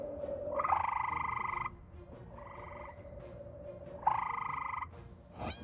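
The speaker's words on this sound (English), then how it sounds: "using the aid of frog sounds to try to lure him in" Recorded frog calls played back as a lure: repeated harmonic croaking in long bursts with short gaps, fairly loud and close, with no talking.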